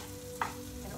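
Soft, steady sizzling of onions frying in a pan, with a single brief stirring scrape in the middle.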